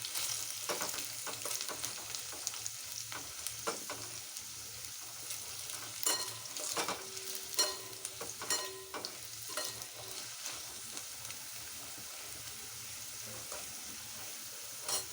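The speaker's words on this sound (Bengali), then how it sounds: "এটা দেখো লাল লাল করে ভাজা হয়ে এসেছে।" Food sizzles and fries in a pan while a utensil stirs it now and then, giving a soft steady crackle with brief scraping clicks near the middle, and no talk is heard.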